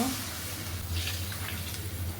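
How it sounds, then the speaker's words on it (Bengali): Water is poured into a cooking pot of singi fish with elephant foot yam, giving a soft, steady running splash that goes on throughout at moderate loudness. "এখন আমি পানি দিয়ে দিব"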